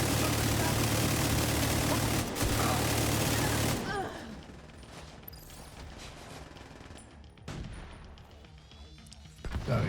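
Heavy video-game gunfire roars in a dense, loud burst, then breaks off into quieter scattered shots and clatter, with a sharp blast near the end that fits a barrel exploding.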